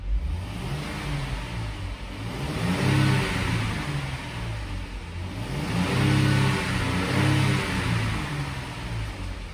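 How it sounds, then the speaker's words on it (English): A 2012 Jeep Grand Cherokee with the 3.6 liter engine revs up twice in two long rising and falling swells, loud and close, with a steady idle hum between them and no talking. "Engine revs up good."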